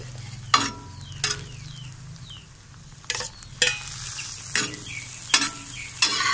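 Onion, ginger and green chilli fry in a pan for tawa bhindi, a low steady sizzle punctuated by about eight sharp scraping strokes of a spatula at uneven intervals.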